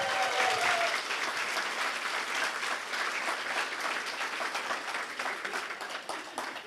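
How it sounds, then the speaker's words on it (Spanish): An audience at a talk gives steady, even applause that lasts several seconds and stays fairly soft and distant, with a brief voice at the very start. "Un aplauso para ella."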